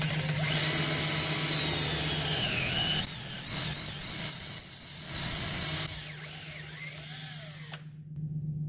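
A power drill with a 13/32-inch bit whines steadily up close, pausing briefly before running again, then cutting off at the end, while drilling during a Nissan Rogue front wheel hub replacement.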